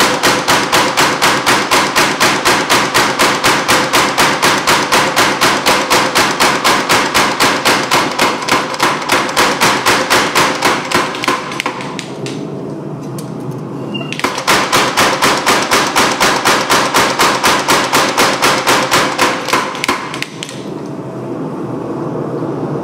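Rapid, even hammer blows ring out while forging a long bread sword blade, loud close strikes in two long runs separated by short pauses.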